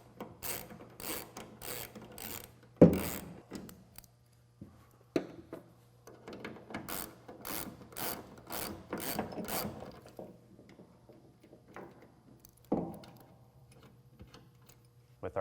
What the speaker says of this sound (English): This is a Torx 40. Simply remove your bolts and take your tie-down hook out of the way.